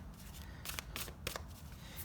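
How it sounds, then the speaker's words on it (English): Tarot card deck being shuffled, several quick crisp riffling bursts spaced through a quiet room, close and fairly faint, with no talk. "when I shuffle my deck, some of the cards, we'll see how we take it."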